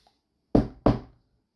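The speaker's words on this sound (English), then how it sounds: "2 knocks were heard" Two firm knocks on wood, used as a sound effect in a spoken story, land about a third of a second apart, loud and close against an otherwise silent background.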